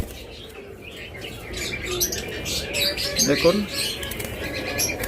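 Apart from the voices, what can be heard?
lutino cockatiels calling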